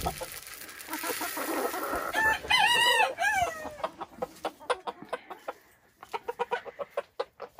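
A farm rooster calling a hen over to a treat with a close, rising and falling crowing call followed by a run of quick, rhythmic clucks, outdoors with a soft background.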